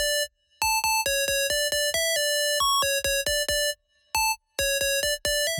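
A melody on a simple synth tone: clean, bright, evenly spaced notes in a bouncy rhythmic pattern with short pauses between phrases, played alone.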